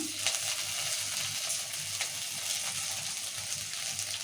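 Coriander seeds dry-roasting with red chillies in a pan for gongura chutney, giving a steady, close crackling sizzle with faint scraping of stirring throughout.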